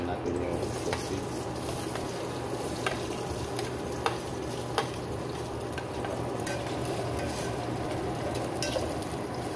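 Sausage frying in a pan for eggplant adobo, a steady sizzle with occasional sharp pops and stirring scrapes, under a voice talking.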